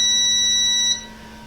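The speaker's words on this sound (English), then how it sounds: "I'll be upstairs sometimes and I'll hear this thing beep beep beep. So I know it's done." A Qidi X Maker 3D printer signals a finished print with a single sustained, high-pitched electronic beep that cuts off, leaving a low hum behind.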